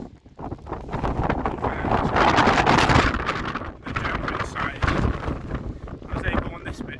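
Strong gusts roar across the microphone on Sgurr Dearg, a Scottish mountain, in buffeting bursts that rise and fall, with a person's speech partly heard beneath the blustery wind.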